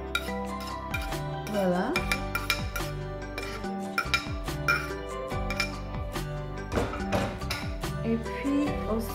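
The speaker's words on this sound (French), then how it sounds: "Mélanger tous dans la préparation de légumes." Chopped vegetables and sliced surimi sticks being mixed in a bowl for Indonesian vegetable fritters, with busy clinking and scraping of a utensil against the bowl, a brief word spoken partway through.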